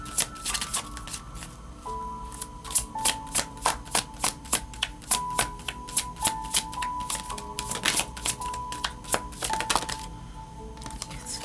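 Tarot cards are shuffled in a series of crisp riffling bursts at a steady rhythm, close and loud, over soft background music with no talking.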